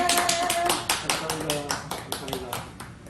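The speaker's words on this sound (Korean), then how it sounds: "우리 나올 때 힘찬 박수로 환영하도록 하겠습니다." A crowd claps to welcome a speaker onto the stage at an indoor event, the dense patter of many hands filling the room, with voices talking over the applause throughout.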